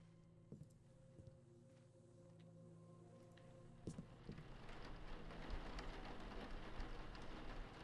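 Steady rain falls in a Thief fan mission, A Shadow on the Water, over a low ambient hum with occasional clicks. The rain grows denser and louder halfway through but stays fairly quiet overall.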